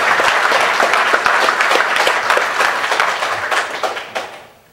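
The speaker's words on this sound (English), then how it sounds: "So give them a round of applause." Conference audience claps for the front desk staff, brisk, dense applause with distinct individual claps close by, strong at first and then gradually thinning and fading out toward the end.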